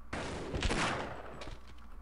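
Gunfire in the 1998 shooter Half-Life: a loud, dense burst of rapid shots filling two seconds, with a sharp heavier blast near the middle and continuous crackle.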